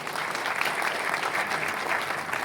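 Loud, steady applause from an audience at a Marathi-language panel discussion, dense clapping sustained evenly without any break.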